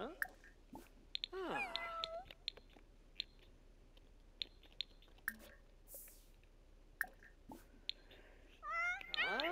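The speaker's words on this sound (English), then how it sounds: "I'm gonna go pet the cat" A cat in The Sims 4 gives several short meows and chirps amid sparse game clicks and soft background sounds, one near the start and another toward the end.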